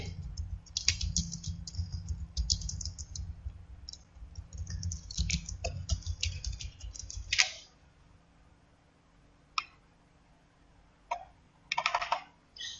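Typing a title into a slide on a computer keyboard: bursts of crisp key clicks over a low steady hum, then sparse taps and a few short clicks after a quiet stretch.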